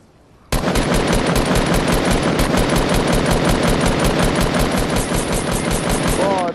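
Sustained automatic gunfire in Fortnite, a loud and close continuous rapid stream of shots that starts abruptly and runs for about six seconds without letting up.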